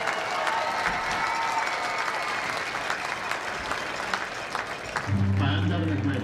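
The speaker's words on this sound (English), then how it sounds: "please give one more round of applause for the Denison High School Touch of Gold Marching" A football crowd at a Denison High School game applauds the Touch of Gold marching band with steady, distant clapping and cheers in an open stadium, which cuts to a different sound near the end.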